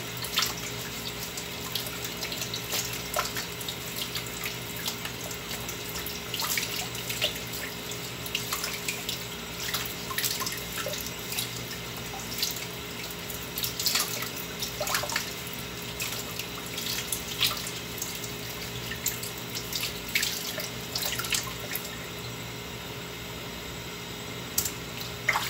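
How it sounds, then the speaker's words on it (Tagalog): Potatoes are washed under a running kitchen tap, with a steady stream of water splashing into the sink and irregular rubbing and sloshing as the tubers are handled, close and moderately quiet for a long stretch. "Ang kailangan natin hugasan ng patatas bago natin balatan."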